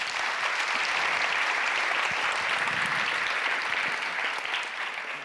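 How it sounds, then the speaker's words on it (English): Audience applause at a JavaScript conference, a dense steady wash of many hands clapping filling the room, loud and continuous throughout, fading slightly at the end. "clap for that."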